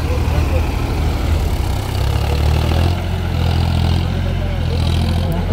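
Sonalika Tiger 55III and John Deere 5050 D tractors running together at 1700 rpm in low gear during a field demonstration, a steady low diesel drone throughout with voices talking over it.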